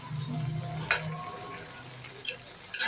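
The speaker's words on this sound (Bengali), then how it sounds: "ঢেকে দিয়ে আমি সুন্দর করে আবার নাড়াচাড়া করে দিচ্ছি।" Papaya curry stirred in a pan on the stove, soft steady sizzling and frying with a few sharp scrapes and clinks of the spoon against the pan.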